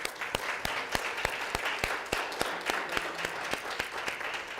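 Sparse, spaced hand claps at a quiet distance, a steady rhythm of single sharp claps rather than a full crowd, with a faint low murmur beneath.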